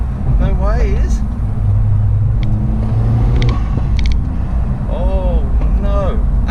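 Decat exhaust on a Vauxhall Astra/Corsa VXR pops and spits while the engine revs around 4,000 RPM, a loud steady engine drone with brief crackles, as someone talks over it.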